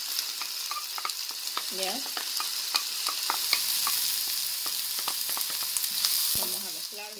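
Chopped onion frying in oil in a pan, a continuous bright sizzle with quick stirring scrapes throughout, close and fairly loud, with a brief spoken word in the middle.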